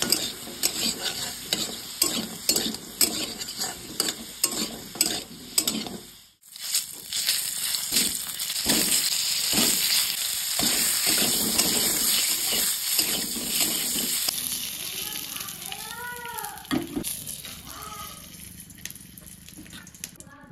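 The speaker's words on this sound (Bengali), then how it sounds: "আলুটা আমি ভালো করে ভেজে নেব।" Potatoes seasoned with turmeric and salt fry in hot oil in a pan, a steady loud sizzle broken by repeated scraping and stirring strokes, with a brief pause midway before the crackling frying resumes.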